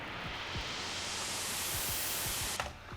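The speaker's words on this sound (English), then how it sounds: "white noise." A synthesized white noise swell for a dubstep build-up rises steadily as a broad hiss over faint low drum thumps, then cuts off near the end.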